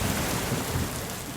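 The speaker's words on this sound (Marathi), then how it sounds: "पाऊस पडतोय." Heavy rain pours down steadily during a thunderstorm, a dense broad hiss with a deep rumbling undertone throughout, close and unbroken, with no voices.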